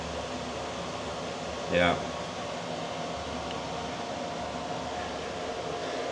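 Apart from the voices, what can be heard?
heat pump clothes dryer running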